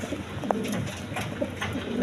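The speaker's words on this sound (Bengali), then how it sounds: "দর্শকবৃন্দ এইখানে এক পেয়ার কবুতর আছে" A pair of large Mundian pigeons coo, low and close, with soft repeated calls over a murmuring background.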